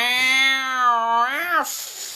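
A human voice imitates a cat's meow in one drawn-out, wavering call of about two seconds, rising and then falling at the end, close and clear.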